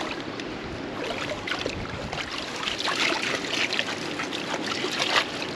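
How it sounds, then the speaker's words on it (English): Water trickling and splashing in a small puddle while gold is panned by hand, a steady low wash of swirling water with soft scattered splashes, close and fairly quiet, with no talk. "You just sit at the puddle and pan."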